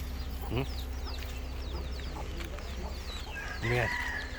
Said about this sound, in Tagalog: Yan, mga manok.